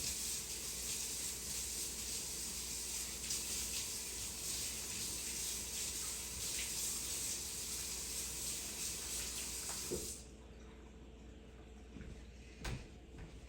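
Tap water runs steadily into a kitchen sink as a few celery stalks are rinsed, a continuous close hiss that cuts off abruptly near the end, leaving quieter handling noises and a couple of small knocks.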